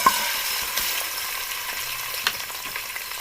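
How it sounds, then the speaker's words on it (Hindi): Half a kilo of chicken fries in a cup of hot melted ghee in a pot, giving a continuous soft sizzle with occasional louder crackles, with no talking. "इसको हमने इस घी के अंदर अच्छी तरह से फ्राई करना है।"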